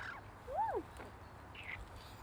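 A single bird gives a short rising-and-falling call, faint and somewhat distant, followed by a softer brief note, over quiet background hum.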